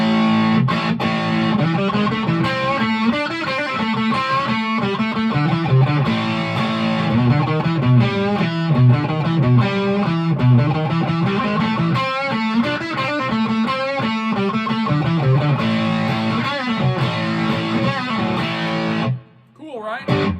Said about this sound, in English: It's a distortion pedal. You can use it as a mild overdrive for rhythm.